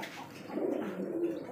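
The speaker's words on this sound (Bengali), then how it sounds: "এত বড় লাহোরি কবুতর দেখেন" Lahori pigeons give a faint, low, throaty coo, one short rolling call heard alone at moderate distance.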